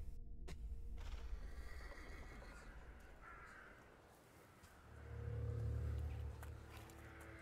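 A horse neighs in The Thaumaturge video game, a drawn-out whinny in the middle of the scene, with faint hoof clops and a low rumble rising near the end.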